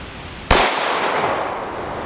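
A single sharp gunshot is fired at Level IIIA body armor outdoors, a loud crack followed by a long, fading echo.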